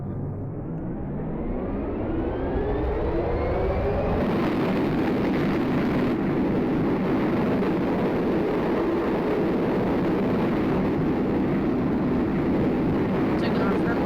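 A flight simulator video game plays an airliner taking off from runway 4 right at Boston Logan International Airport. The engines spool up in a rising whine, then hold a loud, steady roar with broadband rumble.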